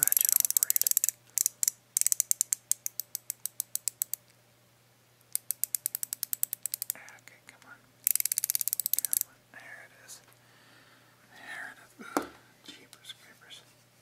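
A ratchet is worked up close during an ASMR repair roleplay, its sharp clicks coming in rapid bursts separated by short pauses. Soft whispering and quiet handling noises follow toward the end.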